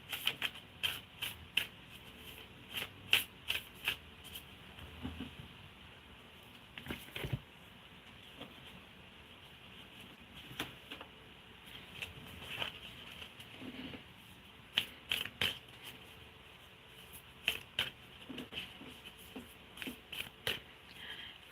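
Tarot cards are shuffled and pulled during a live reading, giving repeated quick crisp riffles and snaps in irregular bursts against a quiet room hum.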